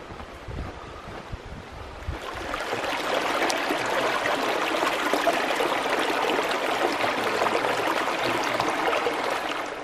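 River water on the Manistee River in Michigan rushes in a steady broadband wash after a few seconds of handling noise, close and continuous with some wind buffeting, and no talk.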